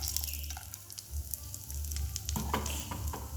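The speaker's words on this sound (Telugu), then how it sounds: "సేమ్ అదే ప్యాన్లోకి ఇప్పుడు జీడిపప్పు వేసుకుందాం." Cashews frying in a pan for homemade dry fruit laddu give a steady close sizzle with scattered crackles and a few stirring scrapes, no voices.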